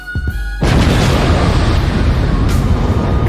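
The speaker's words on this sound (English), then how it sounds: "It's my explosion on deck." A loud explosion sound effect erupts after a brief quiet lead-in, a heavy boom followed by a sustained roaring rumble that fills the rest of the moment with no voices.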